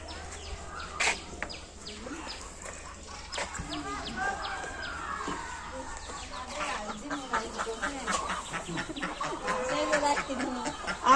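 Chickens cluck and squawk repeatedly in short bursts at a market, mixed with people talking nearby over a busy background.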